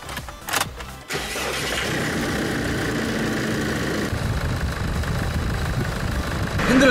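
A Jeep Wrangler fresh from an alternator replacement cranks and starts with a brief clatter, then settles into a steady, close engine idle that swells slightly toward the end.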